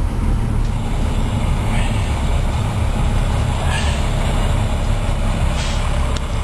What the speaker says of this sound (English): Just a little drive in the compound.